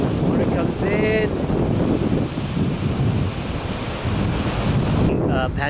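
Sea water surging into a coastal blowhole at Pancake Rocks: a continuous, loud roar of rushing surf with heavy wind buffeting the microphone.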